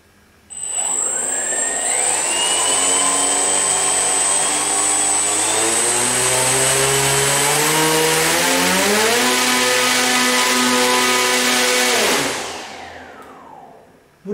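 A homemade high-speed turbo fan motor starts up alone and spins up into a loud, rising whine with a piercing high tone. It holds a sustained roar for about ten seconds, then winds down abruptly.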